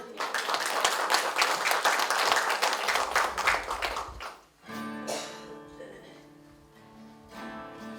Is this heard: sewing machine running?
no